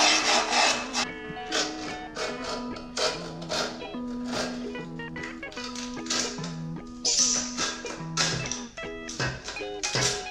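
Sandpaper rubs down the griptape edges of a stunt scooter deck in quick repeated scraping strokes, close and fairly loud, with a few clattering knocks between strokes.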